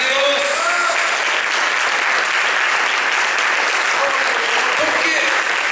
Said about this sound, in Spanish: ¿Cuánto le dan un aplauso a Dios?